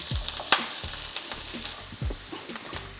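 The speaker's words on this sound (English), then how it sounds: "I will add a little bit of oil to our frying pan. I will then add our chopped onions." Chopped onions sizzle steadily in oil in a frying pan while a utensil scrapes and stirs, with a sharp clink partway through; no talking.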